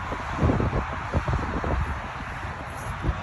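Low, gusty wind buffeting a microphone beside a Jensen Outback 240URS camper trailer, rumbling steadily with brief thumps and no voices.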